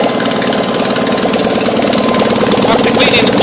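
Fiat 652cc engine running evenly and warmed up after its spark plugs were cleaned, a steady close, loud idle with a continuous rhythmic firing throb through the whole stretch.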